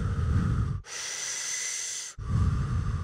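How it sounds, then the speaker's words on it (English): Heavy Wim Hof style breathing: a forceful, close inhale, then a long hissing exhale, then another deep noisy inhale, each breath loud and alone. "Like, heavy, like hardcore, like Wim Hof style breathing"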